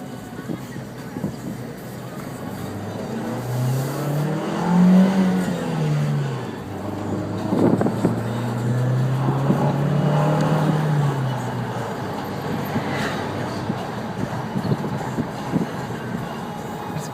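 Turbocharged 2013 Dodge Dart Rallye engine revs up twice in rising, falling sweeps, loud and close, with people talking over and between the revs.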